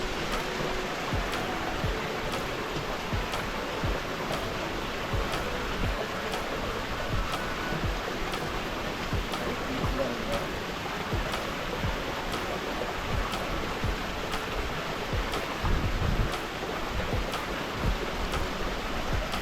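Meltwater runs from frozen Kareri Lake at high altitude as a constant broadband rush, steady and unbroken like a nearby stream, with no voices.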